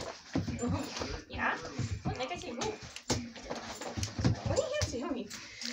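A dog stuck in a car whimpers and yips in short, high whines while people talk over it nearby.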